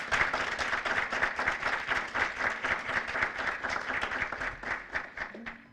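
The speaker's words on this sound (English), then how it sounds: "Can we please give them a round of applause?" A crowd at a celebration event claps in a round of applause, many hands blending into a dense, steady patter that holds for several seconds before starting to thin out at the end.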